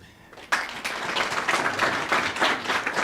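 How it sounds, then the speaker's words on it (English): At an office launch event, an audience breaks into applause after a quiet start, and the sustained, moderately loud clapping swells in waves. "The rule is you clap until she arrives."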